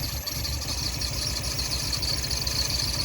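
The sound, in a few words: VW Golf Mk1 engine running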